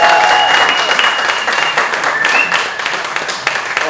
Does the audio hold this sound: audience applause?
yes